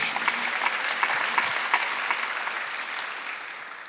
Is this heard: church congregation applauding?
yes